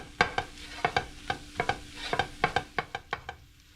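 Butter and flour roux for cream of mushroom soup being stirred in a pan, with repeated sharp scraping strokes of a utensil in an irregular rhythm over a soft sizzle, close and moderately loud.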